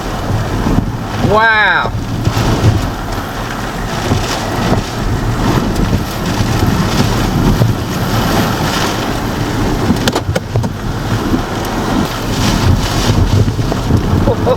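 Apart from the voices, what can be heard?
hurricane wind gusts during Hurricane Francine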